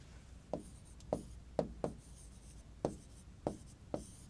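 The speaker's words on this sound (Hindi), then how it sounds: "चाहे तो इधर लिख डालूं मैं इसके नाम, देखिए" Chalk or marker writing names on a board, giving a string of about eight distinct taps and short strokes spaced unevenly over a quiet background, close and moderately soft with no speech.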